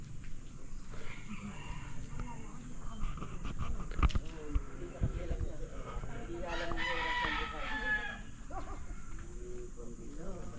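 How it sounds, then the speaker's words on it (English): Chickens cluck and a rooster crows over a breezy outdoor background, with people talking intermittently nearby. "Lots of chickens."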